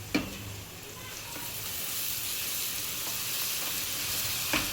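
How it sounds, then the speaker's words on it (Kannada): Ground masala paste fries in a pan with a steady, even sizzle, while a few sharp stirring clinks land near the start and end. "ಹಸಿ ಸ್ಮೆಲ್ ಹೋಗೋವರೆಗೂ ಫ್ರೈ ಮಾಡಬೇಕು"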